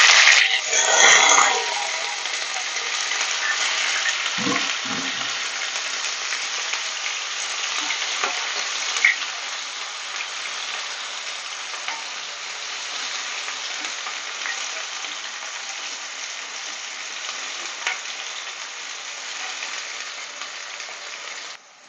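Sliced onions sizzle loudly in hot tempering oil in a pan, added over chana dal, urad dal and crushed garlic for a Telugu okra pulusu; a steady, dense frying hiss fills the clip with brief stirring knocks near the start.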